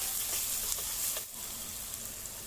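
Onions sautéing in oil in a pan for cabbage poriyal give off a steady, close hiss and sizzle that holds at an even level, with no voices over it.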